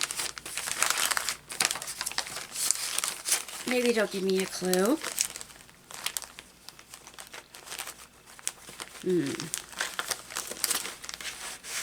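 Paper crinkling and rustling up close as someone rummages through a cross-stitch kit box, in irregular bursts with a few sharp crackles, while someone talks over it.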